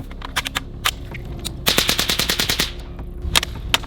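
Rifle rounds fed from a translucent magazine during a torture test: a few spaced single shots, then a rapid string of about ten close, loud shots, and a couple more near the end.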